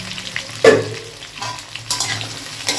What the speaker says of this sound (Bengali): আলু দিয়ে একটু আলুটাকে ভেজে নেবো, তারপরে এর মধ্যে ঢ্যাঁড়সগুলো দেবো